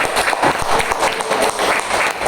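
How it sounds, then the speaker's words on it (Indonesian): Teachers and staff at a school gathering applaud together, a dense, steady wash of clapping that stays loud and continuous throughout with no talk over it. "Baik, tepuk tangan dulu Pak Aris Pratama."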